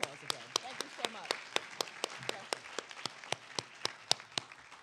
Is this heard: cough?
no